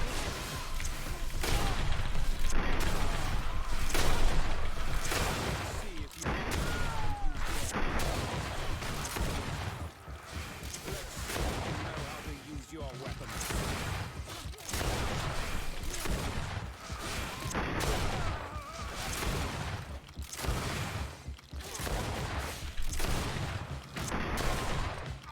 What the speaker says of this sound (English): I'm gonna have to shoot them a lot,